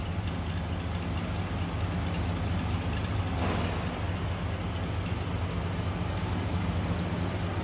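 Engine of a restored 1925 Pierce-Arrow Model 80 seven-passenger touring car running steadily at idle, a low even rumble held close and constant throughout, with no talking.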